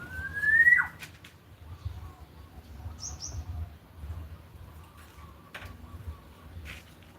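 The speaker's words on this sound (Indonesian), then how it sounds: "Jadi kalau Anda suka dengan burung kecil tapi yang bunyinya keras, mantul, ya inilah ciblek." A ciblek (prinia), a small songbird, gives one loud rising then falling whistled note near the start, followed by a few brief thin chirps scattered over low, steady background noise.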